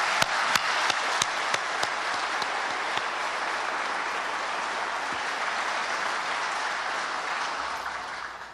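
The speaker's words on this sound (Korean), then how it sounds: "모두 함께 감사와 격려의 박수를 보내주시면 좋겠습니다." An audience applauds at a Korean presidential briefing on the hundred national policy tasks: sustained, even clapping from a large crowd fills the room for over eight seconds, with a few sharp claps standing out early on.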